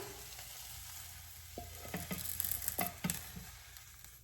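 Eggs sizzle and fry in a pan, a steady crackle with sharper spatters and stirring clicks in the middle stretch, close and fairly quiet.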